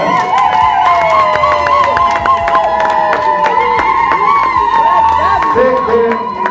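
Wedding guests cheer, shout and clap loudly in a dense crowd roar that stays strong throughout, with voices rising over it.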